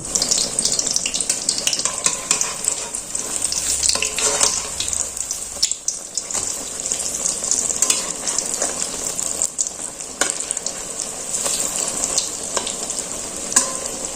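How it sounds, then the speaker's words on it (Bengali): An egg dipped in batter fries in hot oil, a steady bright crackling sizzle that stays close and continuous throughout, with small clinks and no talking. "এবার আমি এটা ভেজে নেব ডিমটাকে এইভাবে ডুবিয়ে আমি ভেজে নেব"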